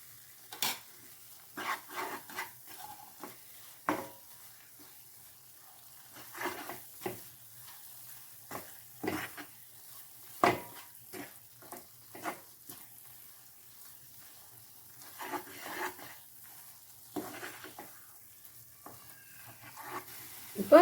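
Bread burfi sweet stirred in a pan with ghee, soft intermittent scraping and light sizzling bursts at an irregular rhythm, close and fairly quiet with no talking.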